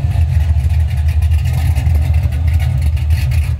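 A supercharged 1969 Chevelle idles loud and rough through straight-through Black Widow Race Venom mufflers, a steady deep rumble with slight throbbing pulses, close by with no talk.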